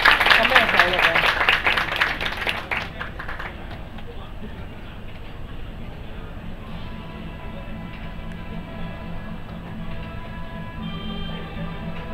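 Audience at a Chinese martial arts association anniversary celebration applauding kung fu performers, a burst of clapping at the start that fades after a few seconds into murmur and faint background sound.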